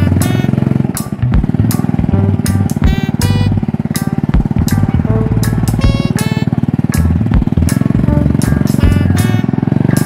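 A loud, rough motorcycle engine runs continuously close by, its sputtering idle punctuated by sharp popping bursts.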